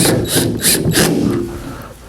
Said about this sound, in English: And I'm just going to go ahead and use Phillips head screws here.